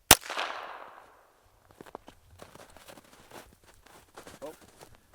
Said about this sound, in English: first up is the .22 long rifle out of the Ruger 1022